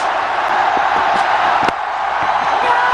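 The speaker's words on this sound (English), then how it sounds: "Now the crowd joining in." A big stadium crowd at a 2009 India versus Sri Lanka one-day cricket match roars and cheers after a run out, a steady, loud wash of massed voices that holds for the full three seconds.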